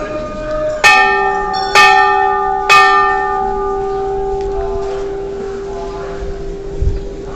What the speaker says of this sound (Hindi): देखिए घंटी बजाएगा राजा भी